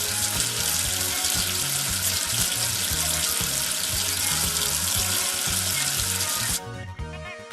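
A children's 3D number-learning game plays a loud, continuous running-water effect as soap is rinsed off a number, ending abruptly after about six seconds with a light musical tail.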